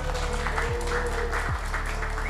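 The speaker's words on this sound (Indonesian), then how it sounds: "tepuk tangan untuk beliau." Steady applause from a crowd at a talk show in Pekalongan fills the whole stretch, dense and even, with a low hum underneath.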